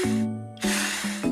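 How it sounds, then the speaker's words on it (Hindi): Water sprayed onto old wallpaper in a cartoon comes as two short hissing bursts from a spray bottle, close and crisp, with a low steady tonal hum running underneath. "इसके ऊपर ऐसे पानी स्प्रे करते हैं"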